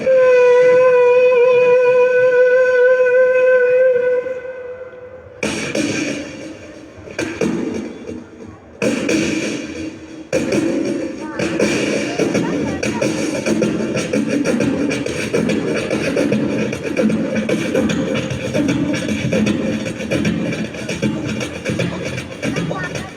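A voice imitates a train starting and moving away. It opens with a steady horn-like tone, then breaks into chugging bursts that build into a continuous rumbling rhythm and carry on for the rest of the clip.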